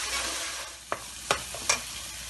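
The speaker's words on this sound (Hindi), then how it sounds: "डाल देंगे सारे ड्राई मसाले। इसको भूनेंगे अच्छी तरह।" Dry spices frying in a pan for a Pakistani-style egg and potato curry, a steady close sizzle punctuated by three quick spoon scrapes.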